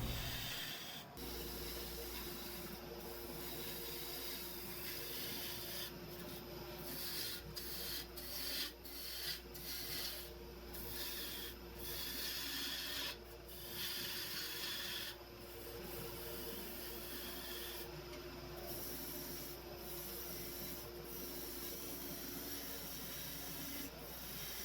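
A wood lathe turns and shapes a wooden vase, with a quiet, steady motor hum under a continuous soft scraping as the tool cuts.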